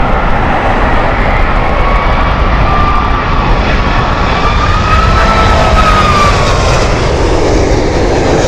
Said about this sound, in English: For a moment there, with the engine revs, I thought we were going to have a go around.